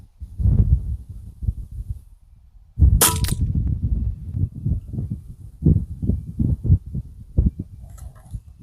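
A single Air Venturi Avenger .177 air rifle fires one sharp crack at a top target outdoors, sitting amid low rumbling handling and background noise.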